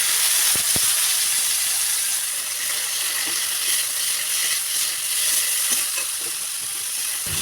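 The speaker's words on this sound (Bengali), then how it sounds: "ভেজে নিয়ে দেব জল চিপে রাখা উচ্ছেগুলো" Squeezed bitter gourd pieces frying in hot oil with radhuni seeds and bay leaf, producing a loud, continuous close-up hiss and crackle with a couple of sharp pops near the start.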